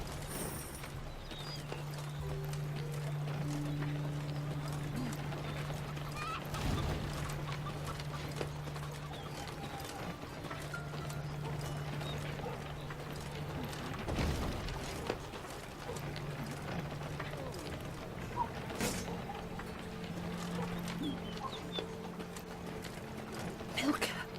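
Horses riding in within a fantasy card game, faint clip-clop hooves and mechanical clatter under talk, with steady tonal hums and a few sharper knocks along the way.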